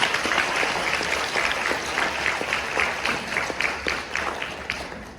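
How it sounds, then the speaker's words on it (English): Audience applause at the MAD STARS 2024 keynote event, a steady wash of many hands clapping that fills the whole stretch, moderately loud and dense without voices. "I just want everyone to give a round of applause for the MedStars team"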